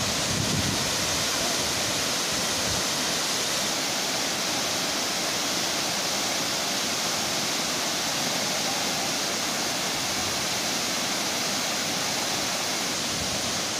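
Budingalu waterfall pours steadily over rocks, a dense, continuous roar of falling water filling the whole clip at close range with no voices.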